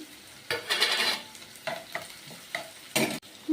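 Onion, green chilli and vegetables such as carrot and beans frying in a pan for flattened-rice pulao, with bursts of sizzling as the mixture is stirred, separated by short quieter gaps and a faint clink of a utensil.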